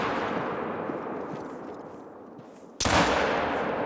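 A single sharp .45-70 lever-action rifle report in the hunting game theHunter: Call of the Wild, cracking out near the end over steady ambient noise, loud and close.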